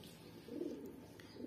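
A soft, low pigeon coo rises briefly in the middle of a quiet outdoor background, faint and close.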